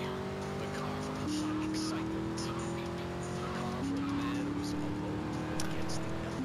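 A car drives off in the video game GTA: Vice City, its engine droning steadily with rising pitch through gear changes, under someone talking.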